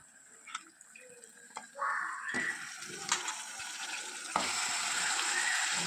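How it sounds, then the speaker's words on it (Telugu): Washed mutton dropped into a hot spice tempering in a pan, a soft sizzle that swells into a steady frying hiss with clinks of stirring, close and moderately loud. "ఇప్పుడు మనము ఈ మటన్ని తాలింపులో వేసుకోవాలి"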